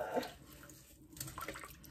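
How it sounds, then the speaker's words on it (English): Tap water runs into a sink or basin for rinsing off a face mask, a soft continuous splash lasting a couple of seconds. "Run some water."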